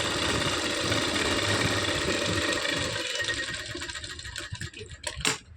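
A sewing machine runs a side stitch along a buttonhole, its motor whirring steadily and closely for about three seconds before breaking into scattered, uneven clicks and short bursts.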